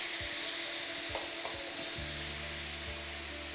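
A Silit Sicomatic pressure cooker releases a steady, loud broadband hiss of steam from its valve, continuous for the whole stretch, with a low hum and a few soft knocks underneath.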